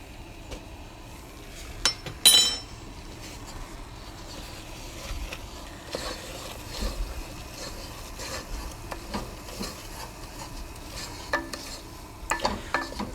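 Flour being stirred into oil in a pot for a mushroom pot pie roux, steady scraping and rubbing strokes with faint sizzle, close up, one louder clatter early on, no speech.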